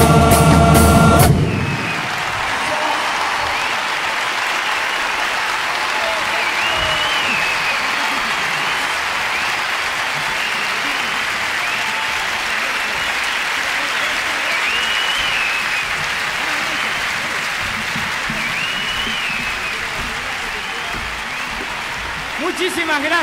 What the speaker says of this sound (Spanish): Fuerte el aplauso para ustedes también.